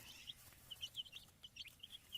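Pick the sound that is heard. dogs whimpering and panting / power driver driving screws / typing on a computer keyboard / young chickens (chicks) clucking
young chickens (chicks) clucking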